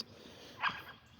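Dog giving a short whimpering yip over a faint background hum, brief and moderately close.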